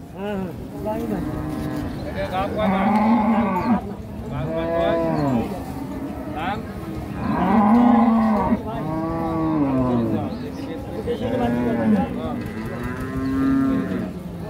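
Holstein Friesian cows, pregnant cattle for sale at the Ambari haat cattle market, moo loudly in a steady series of long, drawn-out calls close by, with market voices murmuring underneath.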